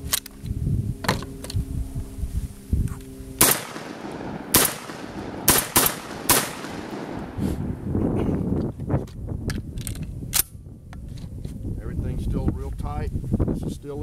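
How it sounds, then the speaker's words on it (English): A Lion X6 tactical semi-automatic shotgun fires a string of loud, sharp blasts at an irregular pace, with several shots close together. Wind buffets the microphone and people talk between the shots. "We'll just shoot a box out of here."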